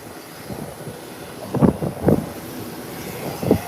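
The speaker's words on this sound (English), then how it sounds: "Said Hasbullah, this aircraft, this airplane, is an ATR 72" An ATR 72 turboprop airliner gives a low, steady rumble with a few louder pulsing swells, heard from some distance with no talking.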